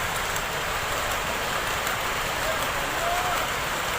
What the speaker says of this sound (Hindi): ये बारिश हो गई है बहुत तेज